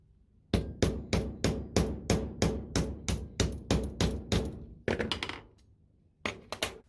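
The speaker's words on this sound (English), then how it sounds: "Put your first rivet in and use the rivet tool to set the rivet washer in place" A non-marring hammer strikes a rivet setting tool on a leather belt in a quick, steady run of about fifteen sharp, close blows, then a short pause and a few more scattered taps.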